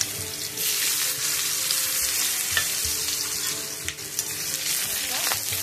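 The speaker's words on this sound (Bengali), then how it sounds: "আলুটা আগে ভেজে নিলাম।" Diced potatoes fry in hot oil seasoned with cumin and dried red chili, a loud, continuous sizzle with crackling bursts and occasional stirring scrapes close by.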